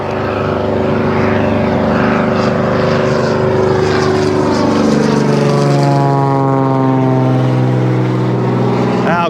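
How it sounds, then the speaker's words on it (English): A small propeller airplane takes off from an airstrip, its engine droning loud and close, then pitch sliding downward as it pulls away, steady throughout with no talk. "See if we can't get that takeoff."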